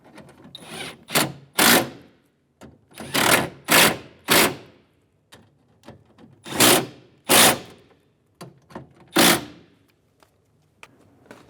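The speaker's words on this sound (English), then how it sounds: "Snug the bolts down." Bolts being snugged down on a rear window regulator inside the door of a 2000-2007 Ford Focus, heard as repeated bursts of ratcheting or power-driver whirring with short pauses between them, close and fairly loud.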